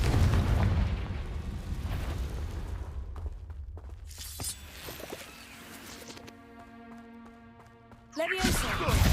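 A Confringo fire spell cast in Hogwarts Legacy bursts into a loud explosive crack amid busy game sounds and music, followed by a rising whoosh and a second sharp burst near the end.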